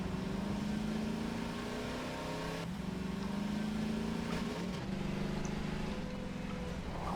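Car engine in a Garry's Mod game driving off-road during a storm chase, a continuous droning hum that rises and falls in pitch as it accelerates, steady and fairly loud with no talk.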